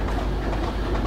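A Class 25 diesel train rolls downhill in Train Simulator 2016, giving a steady close rumble of wheels and carriages with faint rhythmic clatter throughout.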